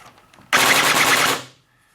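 Full-auto burst from a VFC SCAR airsoft AEG with a Kong Power Burst Wizard MOSFET on an 11.1 V LiPo, about one second of a loud, rapid, continuous buzzing rattle that begins abruptly and tails off.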